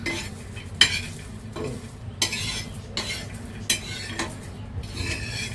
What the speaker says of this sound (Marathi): लसूण आणि शेंगदाणे भाजून घेते